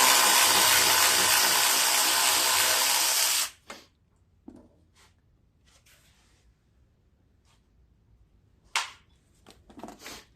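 A power tool whirs loudly and continuously for about three seconds while backing out an 8 mm bolt from the shroud of a Simplicity riding lawn mower, then stops, followed by scattered faint clicks and metallic knocks.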